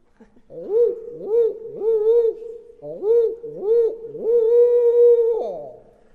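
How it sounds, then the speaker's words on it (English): A barred owl's hooting call, a rhythmic series of rising-and-falling hoots in two phrases, the last note long and drawn out, clear and close. "Barred owls sound like this."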